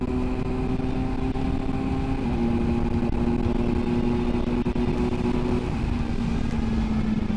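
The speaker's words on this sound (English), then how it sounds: "to see how the bike behaved on the Autobahn at higher speeds" A Kawasaki Versys 1100 SE motorcycle cruising at high speed on the Autobahn, its engine holding a loud, steady drone with a slight pitch drop partway through, wrapped in constant rushing wind noise.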